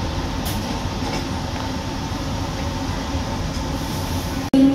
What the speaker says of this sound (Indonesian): Inilah kereta Argo Lawu yang bagus, eksekutif